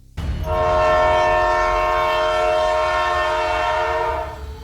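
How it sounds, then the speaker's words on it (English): A loud, sustained train horn blares for several seconds, steady and close, then fades slightly at the end. "Once, even a train horn."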